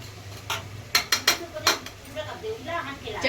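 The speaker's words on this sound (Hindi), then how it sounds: "चटनी भून गई है, अब पड़ेंगे इसमें आलू।" Potatoes tipped into a pan of fried chutney, several sharp clinks and knocks of a spoon on metal, then softer stirring and faint sizzling up close.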